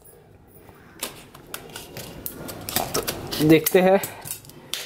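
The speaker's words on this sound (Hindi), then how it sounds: "तो चलिए इसे कैंची से काटते हैं," Scissors snip and crunch through a plastic Halloween monster toy surprise egg in a series of close, sharp clicks and cracks that grow louder, with someone speaking between the cuts.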